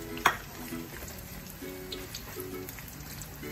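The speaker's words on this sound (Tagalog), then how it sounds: "Pwede na natin i-prito ang ating onion." Onion frying in hot cooking oil in a pan, a steady close sizzle with a brief clatter near the start, no talking.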